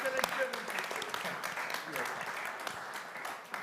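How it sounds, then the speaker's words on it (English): An audience at a summit conference claps after a presentation, a moderate steady patter of applause at a distance, fading slightly toward the end. "A big round of applause."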